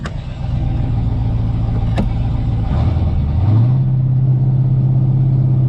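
A 5.8-litre V8 car engine idles close by with a steady, throbbing rumble; its pitch dips and then settles at a new level partway through, and no one speaks.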